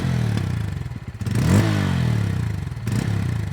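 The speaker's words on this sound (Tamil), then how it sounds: "நமக்கு ஆக்சுவலாக ஸ்டார்ட் பண்ணியுமே பார்ப்போம் அந்த என்ஜின் நோட் எப்படி இருக்குது அப்படிங்கிறத" Bajaj Pulsar N160 motorcycle engine revving up close, a sharp rising rev around the middle that climbs and falls back to idle, with smaller blips before and after.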